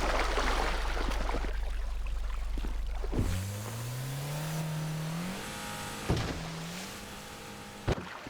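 A car in the GTA video game pulls away, engine noise rising and shifting pitch as it accelerates after a rumbling start, with a few sharp knocks, loud and near, no talking.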